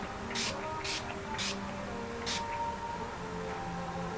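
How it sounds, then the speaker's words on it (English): Mary Kay facial mist from a limited edition spring 2013 line, sprayed in four short, separate hissing bursts close by, each under half a second, with quiet room noise between them. "Spray 2 to 4 times in an X and then in a T."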